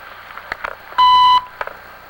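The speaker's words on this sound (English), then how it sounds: "Please leave a message after the beep or dial 0 for an operator." Voicemail beep before recording a message: a single loud, sharp electronic tone of about half a second, preceded and followed by faint clicks and line noise.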